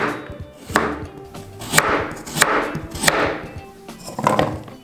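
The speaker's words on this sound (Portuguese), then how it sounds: "Já limpei a cenoura, agora vou cortar em rodelinhas" A knife slicing a peeled carrot into rounds on a board, five or six crisp, evenly spaced chops with crunchy follow-through, loud and close with no talking.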